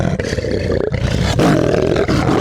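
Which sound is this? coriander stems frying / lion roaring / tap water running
lion roaring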